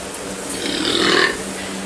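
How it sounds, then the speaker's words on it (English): A loud, drawn-out burp from a man standing in a doorway, rising to a peak about midway and then trailing off, heard alone without talk over it. "gives a big burp in the doorway"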